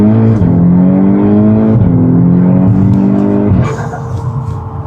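A Volkswagen Golf R accelerates hard along an empty road at night, its engine note rising loud and close in steady harmonic sweeps, easing briefly between gear changes before dropping into a lower drone near the end.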